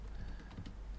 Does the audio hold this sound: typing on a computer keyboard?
yes